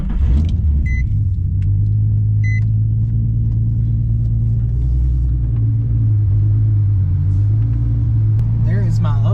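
A drift car idles and rolls into a driveway, its engine holding a loud, low, steady rumble with a slight rise in revs, close by and continuous.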